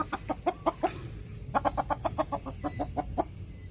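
Red Koshamo rooster clucking in a close, rhythmic series of short calls, a burst of five or six then a second longer run, loud and alone with no talk.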